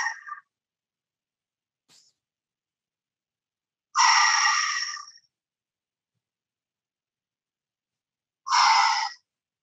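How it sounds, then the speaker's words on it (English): Deep exercise breaths during a martial arts fusion session, heard as two long, strong breathy exhalations a few seconds apart with a shorter one at the start, close and clear in an otherwise silent room. "Begin breathing into those back lungs."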